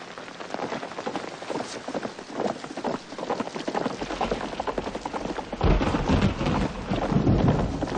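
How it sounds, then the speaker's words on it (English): Heavy rain pours down steadily, with a deep rumble of thunder rolling in toward the end, close and loud. "Pretty big storm."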